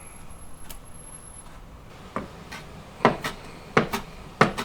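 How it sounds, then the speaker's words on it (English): A knife chops fresh parsley leaves on a board, with a few soft taps early on, then sharper, louder blade strikes coming in irregular pairs and clusters near the end. "And then I'll just chop up the leaves."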